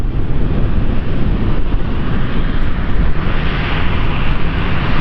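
A steady, loud roar from aircraft at the Farnborough Airshow, with an Airbus A400 on the runway and an A350 on final approach, heard as continuous broadband engine noise mixed with wind buffeting, no voices.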